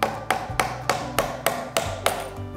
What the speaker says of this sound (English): once you get that groove, you just kind of hammer away